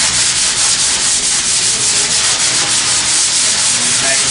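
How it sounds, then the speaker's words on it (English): A file scrapes back and forth over a dented car body panel during dent pulling and panel beating, a loud, continuous, harsh rasp close up that fills the whole stretch without pause. "File it again."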